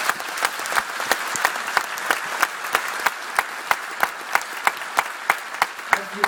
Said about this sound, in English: I'd ask you all to give Catherine a vigorous round of applause.